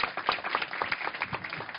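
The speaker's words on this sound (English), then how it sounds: "Can we give them a round of applause?" A modest audience round of applause after speakers at a talk, scattered clapping with distinct individual claps, fairly quiet and somewhat distant, with no voices over it.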